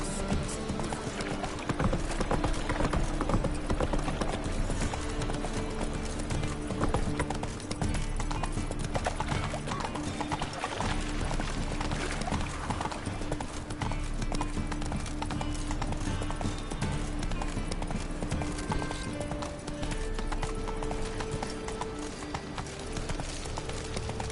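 Horse hooves clip-clopping at a steady trot in The Witcher 3, running continuously under the game's ambient sound, with occasional faint voices and a brief whinny.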